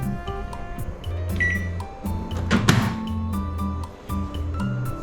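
A microwave oven hums steadily after being repaired in Koh Samui, Thailand, with a low mechanical drone, a clink and scattered ticks and clicks close by, and no talk over it.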